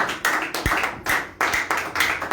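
A church congregation claps hands together in a steady rhythm, each burst of applause evenly spaced and fairly close.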